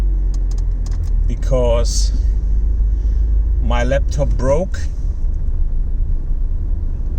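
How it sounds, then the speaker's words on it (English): Steady low engine and road rumble inside a moving car, continuous throughout, with someone talking over it. "yes, I'm driving in my car"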